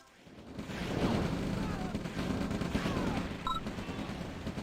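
Battle noise from the strategy game OpenRA, where a V2 rocket fires and explodes amid rumbling blasts and scattered gunfire, swelling after a quiet start and holding steady under faint commentary.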